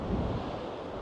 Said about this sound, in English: here's Sam and Finn just keeping out of the wind